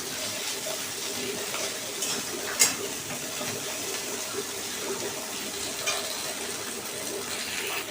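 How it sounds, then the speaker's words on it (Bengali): Tomatoes and vegetables frying lightly in a pan for a fish curry, giving a continuous soft sizzle and hiss throughout with a couple of faint clinks. "টমেটোটাকে আমি হালকা করে ভেজে নেব।"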